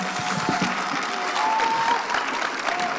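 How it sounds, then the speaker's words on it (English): Full audience applause for the narrators at a Black History Month showcase evening, a dense, sustained wash of clapping with some crowd noise and a faint whistle-like tone drifting through. "Let's give a round of applause for our narrators this evening."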